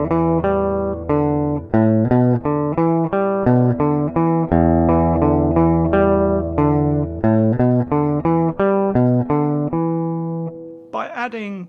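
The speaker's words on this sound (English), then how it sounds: "without any muting technique, it sounds like this." An electric guitar plays the funky Superstition clavinet riff with no muting, so notes ring out loud and sustained in a steady syncopated rhythm, ending on a brief bend or slide.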